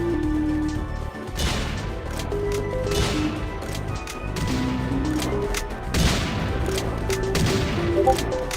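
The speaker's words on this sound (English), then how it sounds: "Time to shoot him back" Video game gunfire rattles out in rapid, loud bursts that keep returning over steady background music, with sharper volleys near the middle and end.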